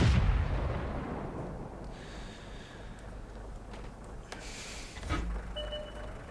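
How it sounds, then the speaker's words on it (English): Artillery fire booms in World of Tanks, a heavy distant blast at the start that rumbles away, followed by a second muffled thud and faint mechanical tones. "Ooh, there's the artillery."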